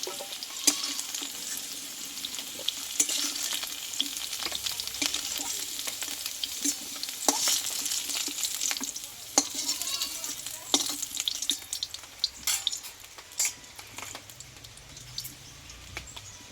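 Potatoes sizzle and fry in a wok while a spatula scrapes and stirs, with irregular clinks and scrapes over a steady hiss.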